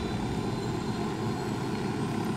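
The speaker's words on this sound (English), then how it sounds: "let's take this helicopter and hopefully we can get out of here" A helicopter in the Ghost Recon Wildlands game, its rotor and engine making a loud, constant, close drone with no pauses.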